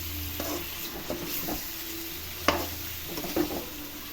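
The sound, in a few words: stirring plantain curry with tamarind juice in a pan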